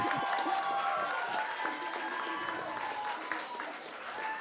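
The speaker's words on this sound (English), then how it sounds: "And a big round of applause for Young Labour's Nevada Lee-Mariu." A studio audience on a youth-wing special of a political talk show breaks into steady, fairly faint applause that runs the whole stretch, with voices mixed in and a few tonal traces riding over the clapping.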